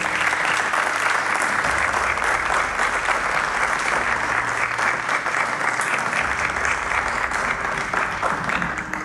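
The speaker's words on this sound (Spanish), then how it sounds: "Un fuerte aplauso." An audience at an education awards ceremony honouring teachers and school directors gives sustained, loud applause, a thick, even roar of many clapping hands lasting several seconds with a low hum beneath.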